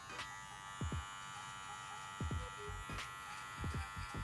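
Electric hair clippers cutting close on a fade haircut, a steady buzzing hum near and clear, interrupted by a few short louder knocks and swipes as the blade moves through hair.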